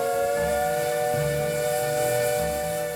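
Steam locomotive whistle on the Brecon Mountain Railway in South Wales, a sustained multi-tone chord blowing loud and steady for the full three seconds over a low rumbling hiss of steam.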